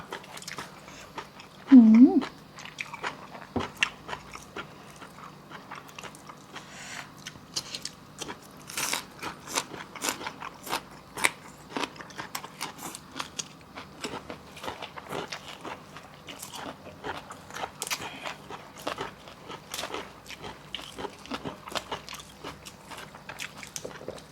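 Close, steady chewing and crunching of mok nor mai, a Thai Isan dish of bamboo shoots and pork steamed in a pot, with wet bites and crackles repeating throughout and a brief voice near the start.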